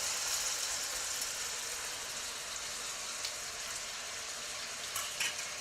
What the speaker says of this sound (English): put these in this large skillet with all this butter